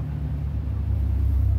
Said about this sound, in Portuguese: o caminhão tá freando sozinho